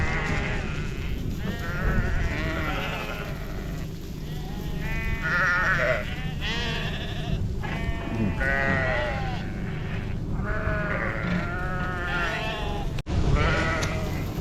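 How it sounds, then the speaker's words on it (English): A mob of sheep bleats repeatedly while being fed at a farm, several overlapping calls close by over steady outdoor background noise. "Yep, this is just a different mob of sheep that I'm feeding."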